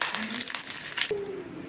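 Mustard seeds, sesame seeds, asafoetida and curry leaves crackle and sizzle in hot oil with quick popping bursts, then the sizzle fades as a faint tonal scrape cuts in; no speech.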